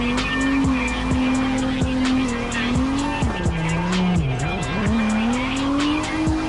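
Race car tires squealing and skidding in the CarX driving game, a sustained engine tone with repeated screeching slides and short tire chirps, loud and continuous with no talk.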